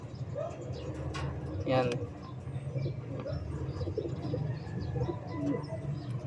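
Racing pigeons cooing in a loft, with soft low coos and occasional wing flutters under someone talking nearby.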